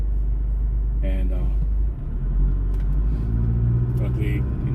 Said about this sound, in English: There's a car speeding up the middle